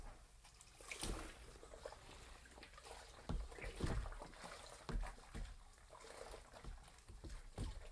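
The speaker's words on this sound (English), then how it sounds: "Let's rinse it off, dry it off." Old, grimy Atari game console parts are rinsed under running water, a faint steady wash of splashing broken by a few soft knocks and clatters of plastic.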